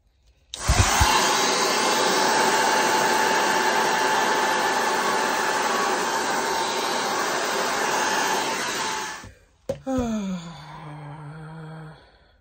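An air blower drying an acrylic Dutch pour roars with a steady, loud, broadband hiss for about nine seconds, then cuts out and whines down in falling pitch after a brief restart.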